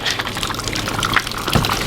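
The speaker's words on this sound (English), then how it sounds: "The water starts coming out the back" Water spills out the back of a Casita RV's fresh water tank as it overfills from a hose, a loud, close, continuous splashing gush with no voices.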